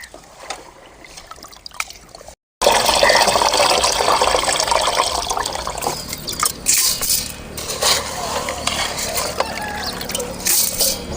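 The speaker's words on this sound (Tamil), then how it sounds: "சுத்தம் பண்ணின கம்பை தண்ணி ஊற்றி சுத்தம் பண்ணி எடுத்துக்கலாம்." Water is poured over pearl millet grains to wash them, a steady close splashing and gurgling pour that begins abruptly after a brief quiet moment and continues with uneven surges.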